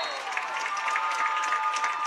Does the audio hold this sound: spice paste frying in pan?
no